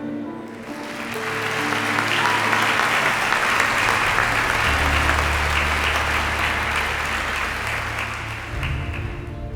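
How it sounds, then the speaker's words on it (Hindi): A crowd welcomes a guest with sustained applause, steady dense clapping that swells quickly, holds for several seconds and tapers slightly at the end, with no voices. "सब तालियों के साथ मिस्टर इंदेरी दासन का स्वागत कीजिए"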